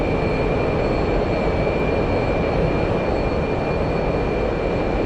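A MiG-19P's jet engine at maximum power during a climb in the DCS flight simulator gives a loud, steady, unbroken roar with a thin high whine running over it, heard alone and close throughout.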